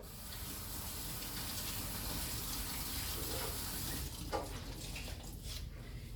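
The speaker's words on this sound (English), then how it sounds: "you just wet it a little bit in water" A kitchen tap runs steadily, water splashing and gushing as a cake strip is wetted under it, the flow continuous and fairly close for most of the stretch before it thins and turns more broken near the end.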